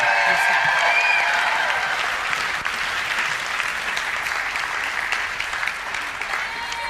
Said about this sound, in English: Audience members, thank you so much for that wonderful applause.